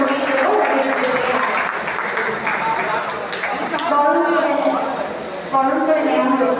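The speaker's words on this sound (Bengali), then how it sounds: "জোরে হাততালি হয়ে যায়।" Loud, sustained applause from a convocation ceremony audience fills the whole stretch, with speech carrying over it and a brief dip before the clapping swells again.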